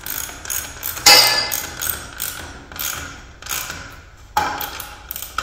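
A square nut is tightened onto a sawhorse pipe brace, giving a series of close metallic ratcheting clicks and scraping turns with one sharper clank, and no voices.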